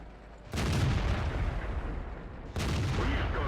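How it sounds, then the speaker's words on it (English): Tank cannon fire in World of Tanks, heard as two loud booming shots a couple of seconds apart, each followed by a sustained rumbling roar. "Okay, he's fired, now I get to shoot him twice."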